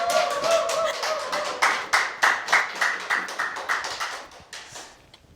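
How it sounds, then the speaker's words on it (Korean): An audience at a success seminar gives a small round of applause, a few distinct clustered claps repeating in a quick, sparse rhythm before tapering off. "박수 소리가 좀 작습니다."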